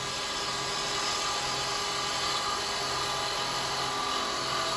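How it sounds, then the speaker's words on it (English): Wood lathe spinning a small Christmas angel figure while a carbide chisel rolls into the end for a clean cut, giving a steady, loud, continuous high whine and hiss throughout with no pauses. "So I'm rolling over so I get a nice clean cut into that end."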